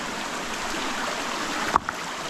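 Water runs steadily through an irrigation channel feeding a rice paddy, a continuous moderate rushing flow with a couple of brief sharp knocks near the end and no talk.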